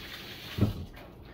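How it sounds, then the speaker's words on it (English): Water splashes briefly over hands being rinsed of banana residue, a short, close burst of running water alone in a quiet room. "I just washed my hands with some water to get a little bit of banana stuff off of my fingers."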